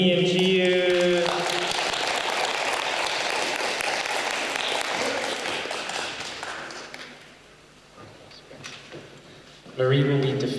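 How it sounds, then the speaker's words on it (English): An audience at an international school literacy event in northern Japan applauds for two grade 8 students, steady clapping that swells and then fades out, framed by a speaking voice at the start and end. "Let's give a round of applause for Marie and Jiu."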